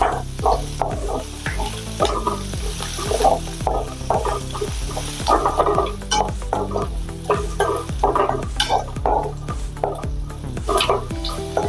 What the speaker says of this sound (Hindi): थोड़ी देर हमने अदरक और लहसुन को भून लिया है